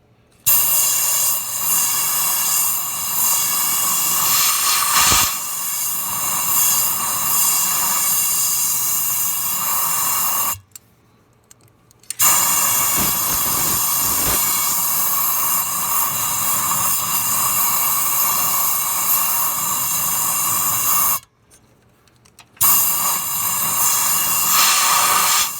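Compressed air blasts down a blown-out spark plug hole on a Ford Triton 5.4 engine in loud, sustained hissing bursts, each lasting several seconds, separated by two brief silences.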